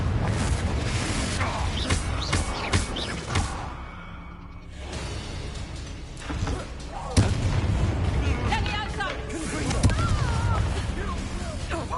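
A Confringo explosive spell blast in Hogwarts Legacy bursts amid a loud exchange of booming impacts, whooshes and crackling pops, with voices calling out between the hits.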